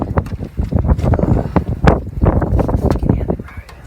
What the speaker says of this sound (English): You might fall over too because of the wind.